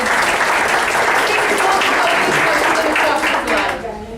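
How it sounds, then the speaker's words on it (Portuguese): Lecture audience applause, dense and loud, continuing evenly before dropping off sharply near the end. "Uma salva de palmas para a Isabel, por gentileza."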